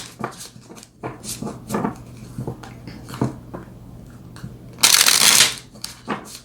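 Tarot cards shuffled by hand, a riffling, papery rustle in irregular bursts with a louder, dense flurry near the end, close and fairly clear with no talking.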